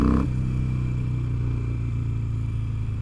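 Harley-Davidson motorcycle engine rumbling steadily and close throughout, a deep continuous drone with a brief louder burst at the very start.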